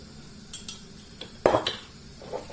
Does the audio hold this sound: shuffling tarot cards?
no